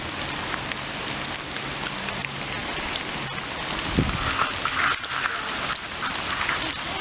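Rain falls in the woods, a dense patter of drops on leaves and ground, steady and fairly close with a few sharper hits, no voices.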